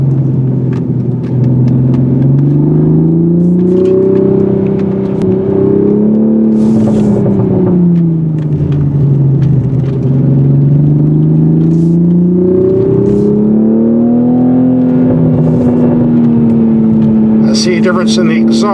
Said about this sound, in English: See a difference in the exhaust tone too, as well as the shift points.